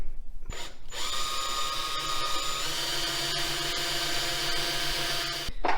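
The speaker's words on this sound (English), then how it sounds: "I think Austin's about to drill right now" A power drill runs steadily for about five seconds while a home office is being set up, a loud continuous whine with a sharp start and a brief pause near the end, and no talking over it.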